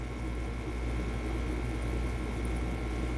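Constant low bubbling and humming of churning water in a Medical King foot bath massager, steady and unchanging, with no talking.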